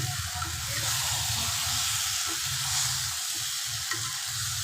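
Mango pieces fry in mustard oil for pickle, a continuous even sizzle and hiss with light stirring clicks, fairly soft and steady with no voices.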